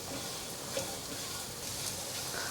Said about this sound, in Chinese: 把红萝卜炒至充分吸收到油。